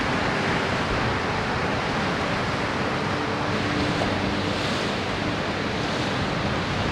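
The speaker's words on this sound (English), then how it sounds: "Wow, the waves are so powerful." Powerful ocean waves crash and roar continuously against the Newfoundland shore, a loud, dense wash of surf mixed with wind buffeting the microphone, with no voices.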